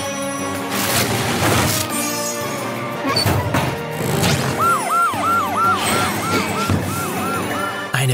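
A cartoon police car siren wails in a quick repeating up-and-down pattern through the second half, loud over busy background music.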